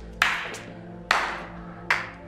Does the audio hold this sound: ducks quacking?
no